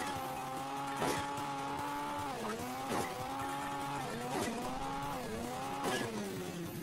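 A rally car in the mobile game Hill Climb Racing 2 driven flat out, its synthetic engine whine rising and dropping repeatedly as it shifts and bounces, with occasional tire screeches, steady and fairly quiet.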